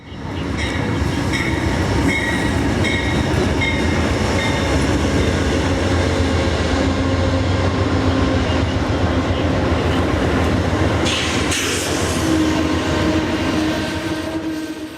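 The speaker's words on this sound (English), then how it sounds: "The first train of the day is Amtrak's California Zephyr number 6, bound for Chicago, Illinois." Amtrak's California Zephyr passenger train, led by two ALC-42 locomotives, rolls steadily past close by at Galesburg, Illinois, wheels clattering and rumbling continuously, with a brief metallic squeal rising near the end.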